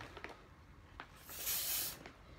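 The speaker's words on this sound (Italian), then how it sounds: "deodorante spray fruttato e fiorito per il corpo" A fruity, floral deodorant body spray gives one short, soft aerosol hiss of about half a second, after a few faint clicks and handling taps nearby.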